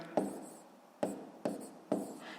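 A pen or pencil writes on paper while working the first step of a 6th-grade fraction problem, making four short scratchy strokes with brief pauses between them, close and quiet, with no talking.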